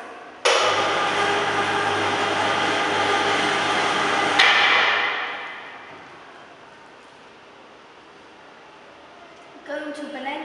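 An MZH-M portable homogenizer mixer switches on with a loud, steady electric whine and hum for about four seconds, then winds down and fades, leaving a quieter hiss before a brief rise at the end.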